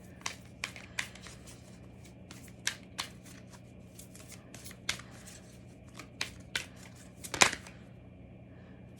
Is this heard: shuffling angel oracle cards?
yes